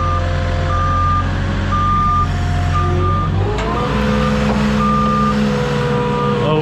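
A forklift on a snow-covered hill emits a regular series of loud reversing beeps over its steady engine rumble, with a rising engine note midway as the machine strains.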